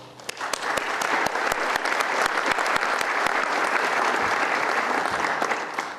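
An audience at a public policy talk applauds for about six seconds, a steady, full round of clapping with distinct individual claps standing out before it tapers slightly at the end.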